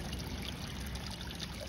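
Water running steadily through a waterfall nozzle of a glass spillway, with a close, continuous rushing trickle and no speech.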